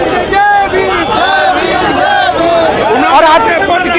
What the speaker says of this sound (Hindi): और लगातार आप देखिए तमाम सारे लोग प्रोटेस्ट कर रहे हैं